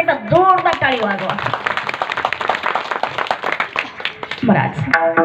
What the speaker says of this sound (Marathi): या मंडळीसाठी एकदा जोरदार टाळी वाजवा.